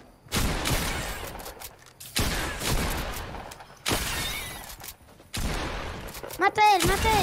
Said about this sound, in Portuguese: então calma aí que eu vou dar um shotgun nele